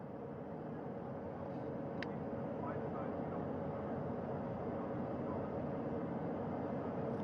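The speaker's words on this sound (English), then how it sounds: "That helicopter will now hover just a distance away to give room for the first helicopter to come back" Rescue helicopter hovering during the hoist of an astronaut after the NASA Artemis II crew's splashdown return: a dense, steady rotor and engine roar that fills the whole stretch evenly, with faint voices under it.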